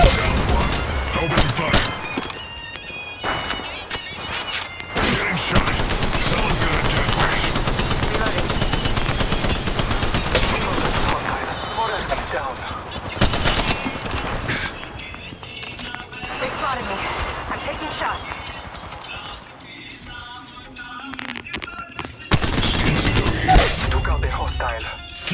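Apex Legends gunfire in rapid automatic bursts, dense and loud for stretches with short gaps between volleys, while a voice talks over the shooting throughout.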